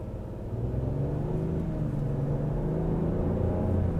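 Lexus GX 550 engine in Sport mode pulling under acceleration, a low steady rumbling drone with rising harmonic tones heard from inside the cabin, continuous and moderately loud without voices.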